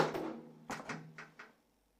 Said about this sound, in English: When I open the door,